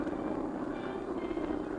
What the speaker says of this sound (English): There's a group of flying fortresses.